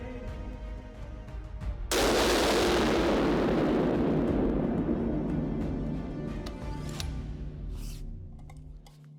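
A single loud, sharp blast as an SSS Defence rifle chambered in .338 Lapua Magnum is test fired, followed by a long rolling echo that fades over several seconds, with a few faint clinks afterward.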